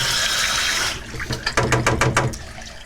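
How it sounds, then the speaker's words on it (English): Cold water pouring into home-brewed dark ale wort, a steady hissing rush that stops, followed by rhythmic sloshing and trickling splashes, close and moderately loud with no talk. "Now we're going to add the cold water."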